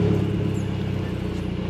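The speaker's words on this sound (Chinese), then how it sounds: "这辆车是改了排气管， 所以肯定会有点声浪哈" A Mercedes-Benz C180 AMG Line of the W205 generation with a modified exhaust runs at a steady, loud, deep idle rumble just after starting, heard up close from inside the car with no talk over it.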